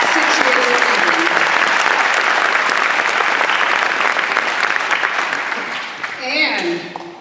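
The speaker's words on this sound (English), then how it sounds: "A round of applause for this group" A crowd at the Edgren High School Class of 2015 graduation gives sustained applause, loud and dense for several seconds, then thinning out. A voice begins speaking as the clapping fades.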